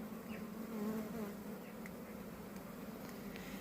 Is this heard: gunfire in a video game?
no